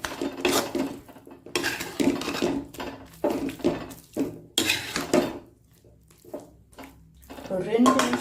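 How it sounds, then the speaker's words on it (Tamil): Thick sugar syrup in a pan on the stove is stirred in bursts, a utensil scraping and clinking against the metal in short rhythmic strokes with pauses between, while someone talks. "பாகு நல்லா கெட்டியாக இருக்கிறதுனால கொஞ்சம் கலந்து நல்லா ஒன்று சேர கலரணும்"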